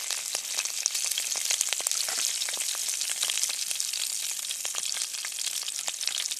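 Curry leaves dropped into hot oil with browned asafoetida pieces in a pan crackle and sizzle steadily and loudly, a dense spitting fry with no talk.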